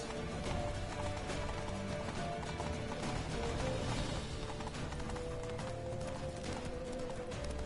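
Steady clip-clop of a horse galloping in The Witcher 3: Wild Hunt, a continuous rhythmic hoofbeat under a dense bed of game music and ambience, loud and unbroken throughout.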